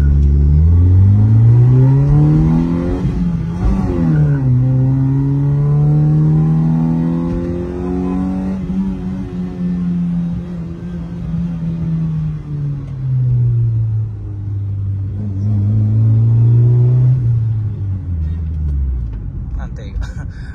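A Mitsubishi Lancer petrol sedan accelerates with a loud, close engine whose revs climb, drop and climb again through several gear-like sweeps before easing off near the end.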